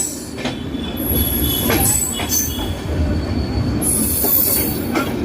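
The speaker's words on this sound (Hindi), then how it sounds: "ओवरटेक कर रहे हैं आई थिंक दून एक्सप्रेस को।" A Garib Rath train with brand-new 3rd AC coaches overtakes the Doon Express near Lucknow Junction. A loud, close, continuous rolling rumble carries repeated high-pitched wheel squeals, with no voices.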